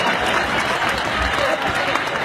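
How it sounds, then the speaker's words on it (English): A church audience claps along at a preacher's urging, a dense, loud crowd of clapping and voices that continues without pause, with speech mixed in over the noise. "Now clap for Moses."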